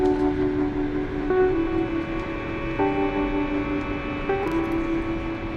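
The Ghan passenger train travels along the line with a steady rolling rumble, while a tonal horn or whistle-like sound sounds in several short blasts over the continuous running noise.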